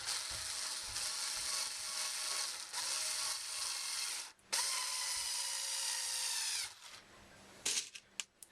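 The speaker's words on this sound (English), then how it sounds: "I'm going to go ahead and put in the other screws" A power drill driving screws into the braces of a mini cocktail arcade cabinet, a loud, steady, close whir in long bursts broken by short pauses and a few clicks.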